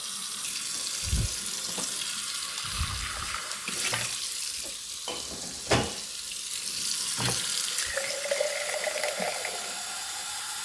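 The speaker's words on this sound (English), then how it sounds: "I like to run the hot water" Hot water runs steadily from a kitchen tap into a sink, a continuous hiss and splash, close by, with occasional clinks of dishes.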